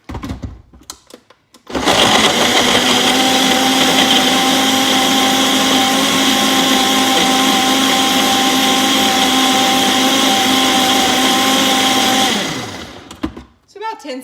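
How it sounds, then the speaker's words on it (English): A countertop blender whirs steadily at high speed, blending banana chunks with liquid for a shake. The loud, close motor drone lasts about ten seconds before spinning down, with brief kitchen handling sounds before and after. "So what I do first is I blend this"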